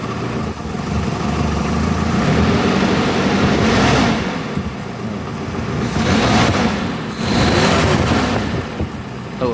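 Daihatsu Espass engine running on LPG with a mixer fitted, revved in two loud surges over a steady, close idle rumble, with no talk.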